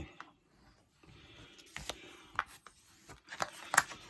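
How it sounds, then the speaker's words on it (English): Paper card fold being burnished with a tool: quiet scattered rubbing and scraping strokes, several short rasps in a row, close by and faint. "all I'm going to do is just burnish that fold"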